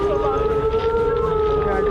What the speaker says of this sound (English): You hear the sirens right away